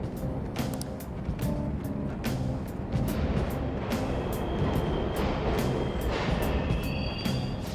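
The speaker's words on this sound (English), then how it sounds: "The trains are totally running!" Subway trains rumble through an underground station in the video game Persona 5 Royal, a loud continuous low roar with rhythmic clacks and squealing metallic tones, sustained throughout.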